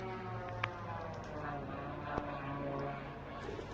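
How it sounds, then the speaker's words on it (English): A steady buzzing engine drone of an attack drone flying in toward a veneer plant in wartime, a continuous harmonic whine at moderate distance under broad background noise, with a couple of faint thuds. "Oh, you can hear the drone coming in."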